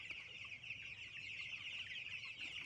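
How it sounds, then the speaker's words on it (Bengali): Chickens cluck steadily on a poultry farm where young 12-day-old birds are raised on homemade feed, some kept above a fish pond; a dense, continuous flock chorus with no talk. "মাছের উপরেও কিছু মুরগি আছে।"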